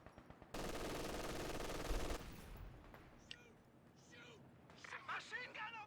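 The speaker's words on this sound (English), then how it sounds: "Machine gun opened up on us!" Machine gun fire in the strategy game Company of Heroes 2 during a 1v1 match: one sustained rattling burst for under two seconds, then quieter battle noise as voices talk.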